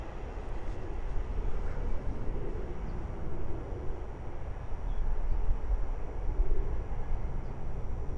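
A Class 700 electric train passes on the East Coast Main Line at Great Wymondley, a steady, fairly loud broadband rumble and rush holding for the whole stretch with no voices over it.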